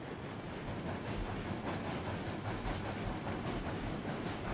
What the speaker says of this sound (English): I don't think I've ever had a locomotive on flat ground move this slow